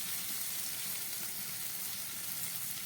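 Spice paste for a Bengali rui fish curry fries in oil in a brief, steady, close hiss of sizzling, even and continuous with no voices.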